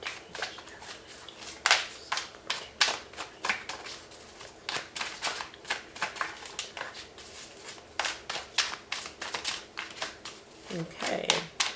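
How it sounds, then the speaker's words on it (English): Tarot cards are shuffled by hand in a run of quick, crisp riffles and taps, close and fairly quiet, with a soft voice murmuring briefly near the end. "Just need to shuffle up a little bit."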